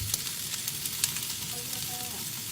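Chili paste stir-fried in coconut oil gives a soft, close sizzle with a few scraping stirs, faint and brief.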